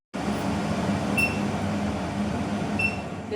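A kitchen chimney range hood runs during cooking, a steady, close whooshing fan drone with a low hum and a couple of faint, brief high tones.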